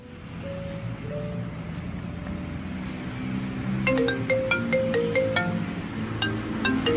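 A mobile phone ringtone plays as a repeating electronic melody over outdoor background noise, starting softly and growing louder and brighter with tinkling tones toward the end.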